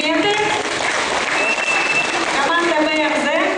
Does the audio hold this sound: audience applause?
yes